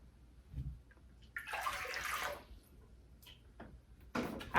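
One and a half cups of warm water pour into a mixing bowl in a splashing, gurgling rush. A few short bursts follow, close and fairly quiet.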